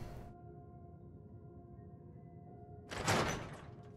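A door in the Fallout 4 video game opens with a short, soft thud and sliding rush after a quiet stretch of low ambient hum.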